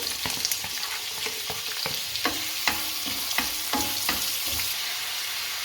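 Finely chopped large onion sizzles steadily in hot oil in a pan, with a continuous frying hiss broken by several soft stirring scrapes, close and loud with no voices.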